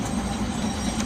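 A Nagasaki Electric Tramway type 370 tram hums and rumbles steadily as it starts off, heard from inside the car at close range.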